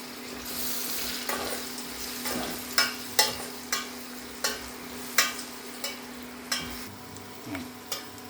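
Soft, steady sizzle of oil in a pan as a spice tempering fries, punctuated by a series of sharp clinks and scrapes of a utensil stirring, about ten in an irregular rhythm.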